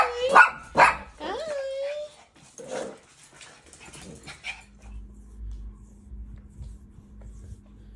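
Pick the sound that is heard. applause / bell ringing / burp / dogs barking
dogs barking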